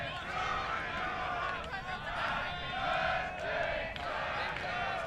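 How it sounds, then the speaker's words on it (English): Crowd voices singing happy birthday at an under-19 ultimate frisbee tournament match, a sustained, distant group chorus rising and falling over several seconds with broad outdoor crowd noise. "Happy birthday from the crowd."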